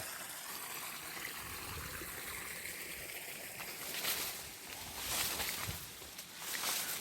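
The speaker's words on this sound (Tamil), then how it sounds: "வடிகால் அந்த மேல் வயலேருந்து தண்ணி வடையுது கீழே போகுது" Water trickles and rushes steadily, a continuous outdoor flow that swells louder now and then, with no voices.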